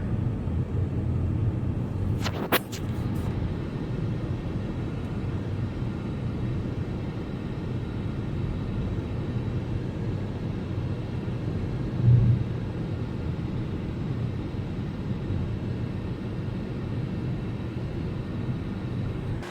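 Steady low road rumble and tyre roar from inside a moving car, continuous and even throughout, with a brief clatter near the start and no talking.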